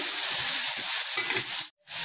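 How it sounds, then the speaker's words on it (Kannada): Tomatoes fry with methi leaves in a pan, giving a steady close sizzle and hiss with light stirring that breaks off for a moment near the end. "ಇದಕ್ಕೆ ಟೊಮೆಟೊನ ಹಾಕ್ಕೊಂಡು ಸ್ವಲ್ಪ ಹುರ್ಕೊಳ್ಳೋಣ."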